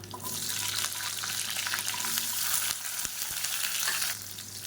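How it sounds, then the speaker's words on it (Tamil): Whole shallots frying in oil with curry leaves for Chettinad green chilli mandi, a steady sizzle with scraping stirs and a few sharp knocks of a spoon against the pan. "10லேருந்து 15 சின்ன வெங்காயம் முழுசாக அப்படியே சேர்த்துக்கலாம்"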